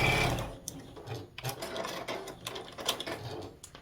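A sewing machine stitching pieces of a snowman quilt, an uneven run of mechanical whirring and clattering bursts with short pauses between, close and moderately loud, no voices present.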